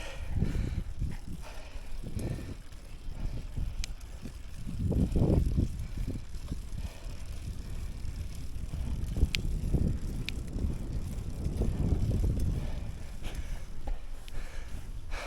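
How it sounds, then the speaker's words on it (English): An old road bike ridden outdoors, its rolling tyres and drivetrain giving a steady low rumble with wind buffeting the microphone throughout, no talk. "today I'm riding my old bike."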